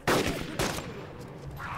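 Gunshots in the video game DayZ as zombies are shot down near a helicopter, two sharp loud bangs about half a second apart, each with a brief rumbling tail, followed by quieter background noise.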